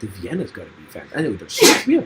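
A single loud, sharp sneeze breaks into a relaxed conversation about beer between several people, who keep talking around it.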